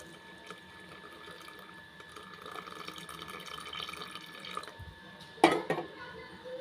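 Coconut milk is poured into a pot of kozhukattai cooking in sugarcane juice, a faint liquid trickle and gurgle with a brief louder splash and clatter near the end.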